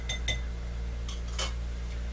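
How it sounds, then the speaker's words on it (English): A Greyhound cocktail of grapefruit juice is stirred in a glass, giving a few quick, bright clinks near the start and another cluster later over a low steady hum. "Give it a quick stir."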